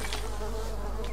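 Bees buzz continuously in the video game Dying Light 2, a dense, droning insect hum that stays loud and steady throughout with no pauses.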